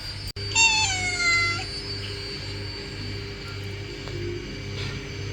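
A cat lets out one loud, drawn-out meow close by, its pitch sliding downward, after a sharp click, over a steady low hum in a quiet room.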